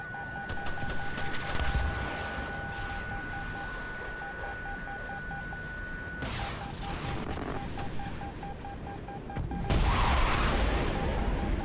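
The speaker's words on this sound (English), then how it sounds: "I'm just slinging missiles." In War Thunder, missiles are fired: repeated electronic lock-on beeps and steady warning tones run throughout, broken by two sharp, loud launch bursts mid-clip and near the end, with no talking.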